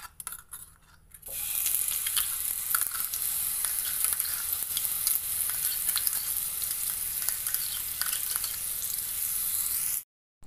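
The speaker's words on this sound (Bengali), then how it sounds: "এইভাবে নেড়েচেড়ে আমি ভেজে নিচ্ছি।" Grated carrot sizzles hard in refined oil in a pan, a loud, continuous crackling fry broken by scraping stir strokes, starting quieter before the pan fills with steady hiss and cutting off near the end.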